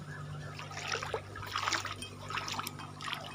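Flood water flowing around a house during a river flood, a steady broad wash of moving water with trickling and splashing bursts, fairly close and continuous with no talk.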